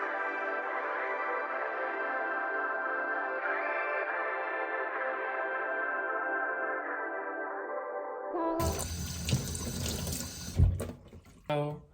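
Tap water runs steadily into a sink for about eight seconds while Rubik's cube pieces are washed, then splashing, clattering pieces and scrubbing noises follow up close.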